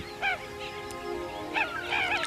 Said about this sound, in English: With a coded chirp, he calls his chicks to him.